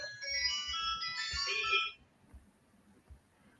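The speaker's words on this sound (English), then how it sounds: "One phone rang" A phone rings with a bright, repeating electronic melody for about two seconds, then stops and leaves a quiet room with faint background noise.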